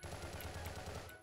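Rapid gunfire from a 12-gauge shotgun firing slugs in the video game Crossfire, a quick rhythmic burst of several clipped shots that stops abruptly, fairly quiet in the mix.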